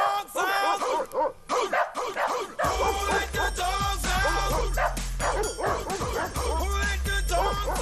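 Several dogs barking and yipping in a lively, overlapping chorus over a steady beat of music, with sung vocals mixed in throughout.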